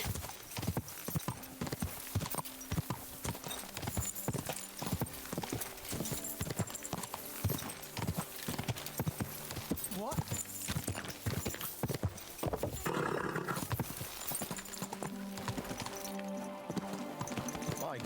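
Horse hooves clip-clop steadily on a hard surface in Kingdom Come: Deliverance II, loud and close, with a rhythmic trot running throughout and occasional game sounds layered over it.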